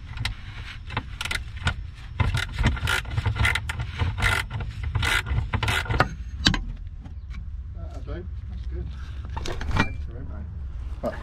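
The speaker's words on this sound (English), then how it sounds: "You can see there's these two bolts which we need to adjust. We're using a 8mm socket." An 8mm socket wrench turns the headlight adjustment bolts on a car, producing quick metallic ratcheting clicks and scraping in bursts, with a low engine hum underneath and brief voices nearby.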